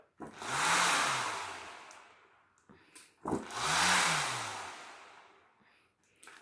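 A paper-and-cardboard centrifuge spinning on a twisted string gives two loud rising-and-falling whirring buzzes, each about two seconds long, separated by a short pause and faint clicks.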